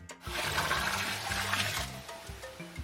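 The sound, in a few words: bucket of water poured on a campfire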